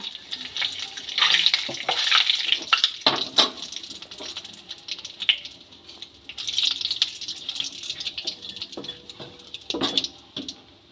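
Whole cumin seeds and two bay leaves sizzle in hot oil, a steady crackling hiss with bursts of sharper popping and spitting that swell and fade, close up and with no talk.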